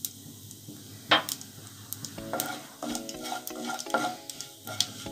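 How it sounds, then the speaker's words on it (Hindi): Cumin seeds and crushed coriander crackle in hot oil for a winter thali dish, with a steady sizzle broken by sharp pops and a few light clinks of a pan, close and alone without talk. "तो थोड़ा सा जीरा हमारा क्रैकल हो जाए उसके बाद इसको ऐड करेंगे"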